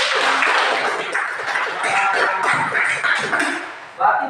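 Audience applause in a classroom: a few seconds of dense, steady clapping from a group, fairly close, with voices mixed in.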